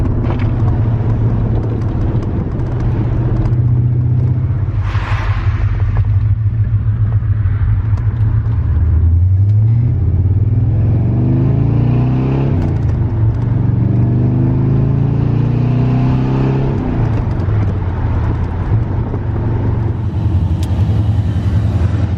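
A Chevrolet C4 Corvette with dual exhaust heard from inside while driving with the windows down, a deep steady engine rumble that rises and falls as it accelerates and shifts, mixed with wind and road noise, no talking.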